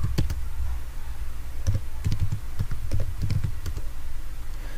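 Quick bursts of key presses on a computer keyboard as a command is typed, clustered clicks with short pauses between them, close and crisp over a steady low hum.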